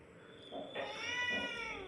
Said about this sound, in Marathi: कॅट किंग त्याचं नावच त्याच्यासाठी ठेवलं आहे, कॅट किंग.